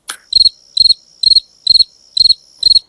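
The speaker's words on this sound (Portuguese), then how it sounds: "E esse som de grilos foi eu que coloquei" A cricket sound effect of six evenly spaced chirps, each a quick trill of pulses, loud and clear against silence.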